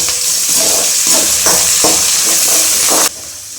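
Finely chopped garlic drops into hot oil for dry fish thokku, giving a loud, continuous sizzle with a few stirring scrapes before it cuts off near the end.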